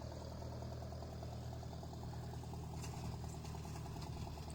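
A steady low engine rumble idles continuously at a distance, faint and unchanging, with a slight rhythmic chug throughout.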